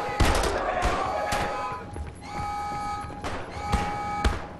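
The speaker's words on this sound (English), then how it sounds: "Who else is shooting?" Rapid gunfire in Wolfenstein: The New Order, repeated loud bursts and single shots in quick succession with buzzing tones between them.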